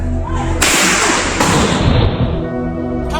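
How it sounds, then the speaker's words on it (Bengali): Sharp, loud police gunshots burst out at a crossroads in Savar, two sudden blasts a moment apart, followed by a noisy, chaotic din that slowly settles. "হঠাৎ পুলিশের প্রাণঘাতী গুলি বর্ষণ"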